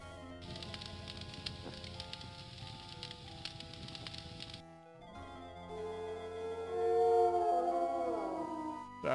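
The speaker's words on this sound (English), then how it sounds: "That howl was much closer than before." A long wolf-like howl rises and falls in the game I Have No Mouth and I Must Scream, swelling loud and near in the second half after a dark, crackling ambient stretch.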